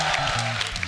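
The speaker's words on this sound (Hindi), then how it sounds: "जोरदार ताली" Loud, dense applause from a studio audience at a comedy talk show, a steady wash of clapping filling the short moment with low voices murmuring underneath.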